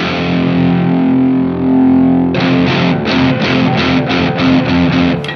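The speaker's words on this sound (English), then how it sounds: "Okay, distortion sound, right?" Electric guitar played through an LSL Vital DS distortion pedal, a sustained distorted chord ringing alone and then switching to a loud, tight rhythmic chug of about eight evenly spaced palm-muted strums.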